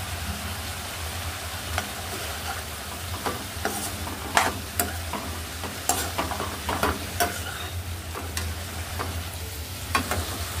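Cabbage and dried fish stir-fry in a pan, giving a steady soft sizzle. A spatula scrapes and clatters against the pan again and again at irregular moments.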